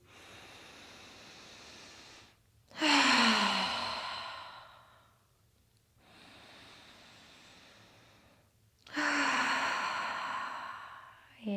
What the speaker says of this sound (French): on va prendre 3 grandes inspirations par le nez, 3 expirations pour se relâcher par la bouche